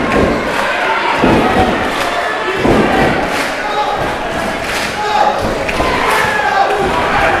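A wrestling crowd roars steadily at a steel cage match, broken by heavy thuds and slams from the ring, loud and close throughout.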